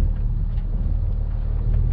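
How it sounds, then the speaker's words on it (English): A snowplow approaches during an April winter storm, heard as a steady, heavy low engine rumble that holds at an even level throughout, with no voices. "Well, the snowplow's coming,"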